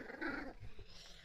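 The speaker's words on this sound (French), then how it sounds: "les chiens sont en train de se taper dessus" Dogs fighting indoors, a brief low growl and scuffle with a whimpering yip, faint and close.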